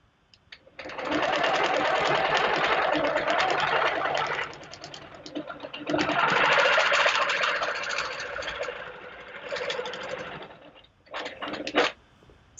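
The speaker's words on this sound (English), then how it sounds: "Now I will stitch up and over to here." A longarm quilting sewing machine stitches in long, fast, steady runs with brief pauses between, close and loud, with a few short bursts near the end and no talking.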